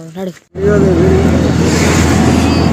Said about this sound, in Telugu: అంజలి ఆటో వెళ్తుంది.